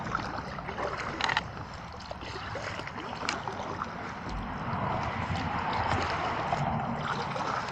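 A small kayak being paddled along the narrow River Wantsum, with steady water swishes and trickles over a constant low rumble of wind or distant traffic, no voices.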